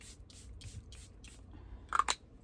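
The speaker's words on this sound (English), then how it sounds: "I think I'm just gonna spray my brush as well." Close, quiet spritzes of setting spray onto a makeup brush: five short regular hisses, then a louder, wetter pair of sprays near the end.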